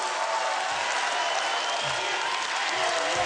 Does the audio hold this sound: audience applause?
yes